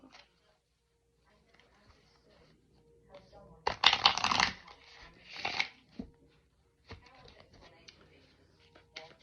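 Tarot cards are riffled and shuffled in a couple of quick bursts, close and soft, with quiet handling noises around them.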